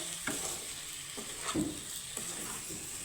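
Raw mango pieces and sugar are stirred in a pan over a low flame, a soft steady sizzle broken by a few scraping stirs of the spoon, close and fairly quiet with no voices.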